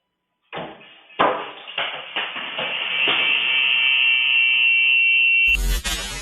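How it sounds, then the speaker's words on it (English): Kitchen cabinet doors in a home bang open one after another in a quick series of loud knocks, followed by a sustained buzzing tone and a final harsh burst. "The doors opened with immense force"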